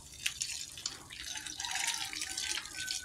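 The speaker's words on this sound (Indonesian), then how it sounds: "Kita nyalakan airnya guys dan kita bilas satu persatu." Water runs from a tap to rinse shoes after washing them, a fairly soft, steady splashing and gurgling flow that carries on throughout with no talking.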